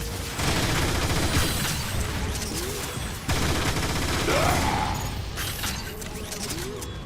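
Rapid weapon fire in the robot shooter game Transformers War for Cybertron: dense bursts of gunfire over clanking, ratcheting mechanical noise, with brief pauses between volleys and a faint voice beneath.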